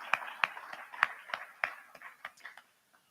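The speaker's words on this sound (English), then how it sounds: "Let's please give up a round of applause for Gilliam Bell Moser" A sparse round of applause from an event audience for sponsor Gilliam Bell Moser, about a dozen distinct, fairly faint claps at an uneven pace that thin out and stop near the end.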